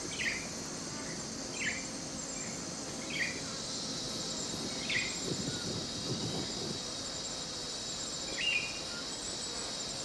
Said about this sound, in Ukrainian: Найчисленнішими представниками мікросвіту є комахи, яких тут міріади.